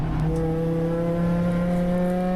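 A ChampCar endurance race car at Road America accelerates hard toward the Corvette bridge, its engine note climbing steadily in pitch as it rises through the revs, loud and close with no voices.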